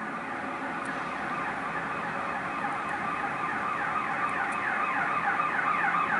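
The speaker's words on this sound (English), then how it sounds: "here is the ambulance right here" A distant ambulance siren wails continuously in a rapid warbling pattern on Wacker Drive in Chicago, steady and fairly faint, blended with background noise and no voices.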